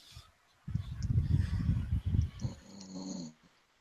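A man snoring while napping, rough rattling breaths in a few bursts, close and fairly loud, with a quieter wheezy tail at the end.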